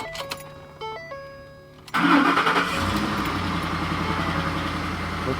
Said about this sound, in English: Okay, we're gonna go ahead and start the truck.